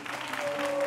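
Brief burst of studio audience applause on a television talk show, a dense patter of clapping that holds steady and slightly swells over under a second.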